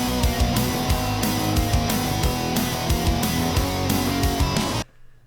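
Programmed pop punk drums with open hi-hats whose velocity shifts from hit to hit, sustained and washy over a full band mix, cutting off abruptly near the end.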